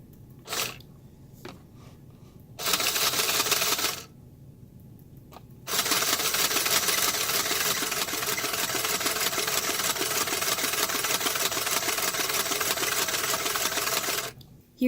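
Sears Lockstitch child sewing machine Model 49 running: a steady, fast mechanical whirring hum in short starts, then one long unbroken run of about nine seconds, close and fairly loud, with a few faint clicks between runs.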